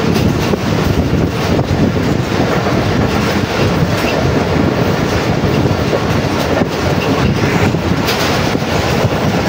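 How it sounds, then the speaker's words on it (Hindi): The 10 Down Allama Iqbal Express runs at high speed between Sahiwal and Khanpur, a continuous loud rushing rumble with rapid clickety-clack of wheels over rail joints and some wind buffeting, heard from on board without talk. "10 डाउन अल्लामा इकबाल एक्सप्रेस जो है वो परम एक्सप्रेस स्पीड के साथ आगे बढ़ रही है"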